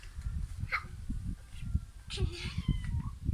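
A cat meows a few times, fairly faint, against steady background noise and nearby voices of people talking at home.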